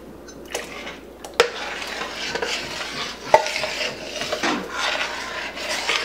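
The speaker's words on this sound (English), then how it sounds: "now we're going to add the coconut milk." Coconut milk is poured into a pot of sweet bean dessert and stirred, giving a steady wet swishing and scraping of a spoon, with a couple of sharp clinks against the pot, close and continuous.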